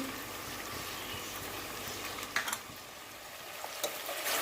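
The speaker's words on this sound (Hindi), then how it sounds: "अब हम इसे थोड़ा सा इस प्याज में मसाले में पकाएंगे" Onions and masala for chicken shahi korma frying in a pot, a steady broad sizzle with occasional stirring scrapes, close and continuous throughout.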